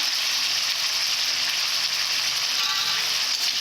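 Shredded cabbage sautés with turmeric in a pan, a dense, even frying hiss that stays loud and unbroken for a few seconds with no talking.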